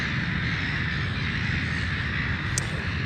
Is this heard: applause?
no